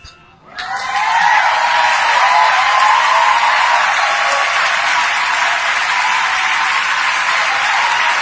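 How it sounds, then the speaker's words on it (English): A large crowd at the Golden Globes bursts into sustained, loud applause after Oprah's speech, starting suddenly and continuing evenly without letting up. "Let's clap that up, man. Let's clap up Oprah's speech"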